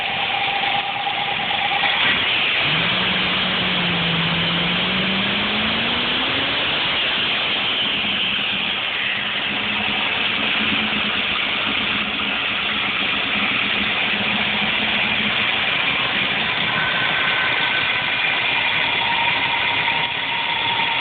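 A 267 V8 engine idles steadily right after a carburetor rebuild, giving a constant mid-level rumble with some shifting tones and no talking.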